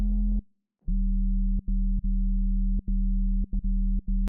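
A Serum 2 sub bass synth plays a deep, steady sine-like tone in a run of sustained notes. Each note is cut by brief gaps and clicks in a simple rhythm, and it sounds alone and loud.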